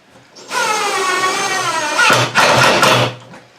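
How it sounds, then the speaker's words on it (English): A power driver sending screws into wood for a teardrop camper, a loud close whining motor run of about three seconds that strains and bites near the end, with no talk. "I'm going to run 2 screws down through the bottom from here"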